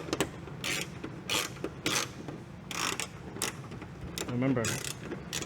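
A fender bolt on a 2015-2020 Ford F150 Lariat is tightened with a ratcheting tool, giving short bursts of clicking and ratcheting at close range. Quiet talk comes between the bursts.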